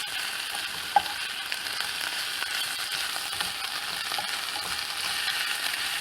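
Cabbage sizzles and fries in a pan while being stirred, a steady hiss broken by scraping and occasional clinks of the utensil against the pan.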